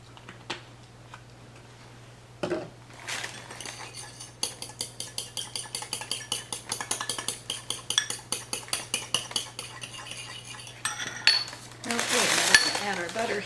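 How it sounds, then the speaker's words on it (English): Egg yolk, cream and vanilla whisked in a bowl for a rich pastry crust, a steady run of quick rhythmic clinks and scrapes of utensil against the bowl, close and moderately loud, ending in a louder burst of clattering. "Give the egg yolk and the cream a little beat."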